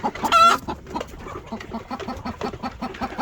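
A hen clucks in a steady, repeated rhythm close by, with a louder squawk near the start, against a quiet farmyard background.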